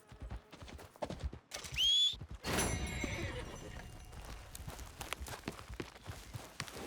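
A horse in the Red Dead Redemption 2 video game gives a sharp whinny, then its hooves clip-clop in a steady walking rhythm, with faint ambient game sound underneath.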